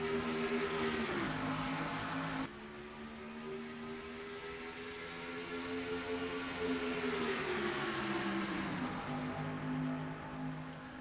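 Stock race cars roaring together at Atlanta just after the green flag, a continuous loud engine drone whose pitch rises and falls as the field passes, with no voices.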